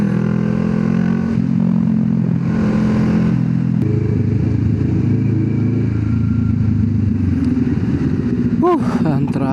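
A Kawasaki Z650 motorcycle engine drones steadily up close, its pitch shifting as it revs, with a brief rising whine near the end.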